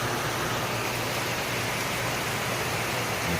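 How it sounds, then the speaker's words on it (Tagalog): Steady heavy rain falls during a downpour in the Philippines, a dense continuous hiss with no pauses, loud and close throughout. "ngayon lang lumakas ng ulan"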